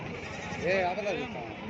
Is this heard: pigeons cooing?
no